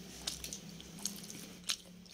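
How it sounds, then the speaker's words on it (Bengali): Boiled papaya being eaten up close, quiet soft bites and squishy chewing in a few separate moments, with no talk. "পেঁপে দিয়ে অনেকদিন পরে পেঁপে সেদ্ধ খাচ্ছি।"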